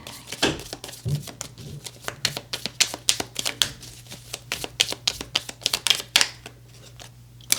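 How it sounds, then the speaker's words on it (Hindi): Tarot cards shuffled and drawn close up, a dense, irregular run of crisp flicks and riffling snaps, soft and steady over a low background hum. "यहाँ पर हम थोड़े से और कार्ड्स लेंगे और फिर आपकी रीडिंग को एंड करेंगे।"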